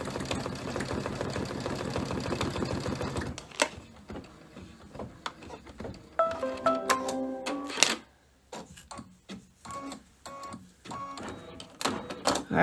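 A Luminaire embroidery machine stitches a snowman's white highlights on a tea towel, first a fast steady rattling hum, then a sparser run of rhythmic clicks and mechanical taps close up.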